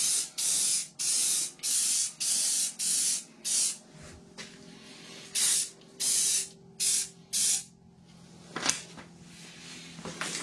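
A first coat of spray paint goes onto steel in about a dozen short, loud hissing bursts, each roughly half a second long, followed by a quieter stretch with a few faint knocks.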